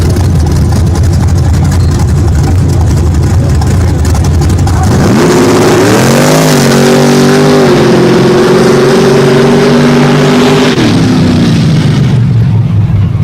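A big square-body Chevy truck roars through a mud bog run. A loud idling rumble builds into a sustained high rev that holds for several seconds and then drops away, over steady crowd noise.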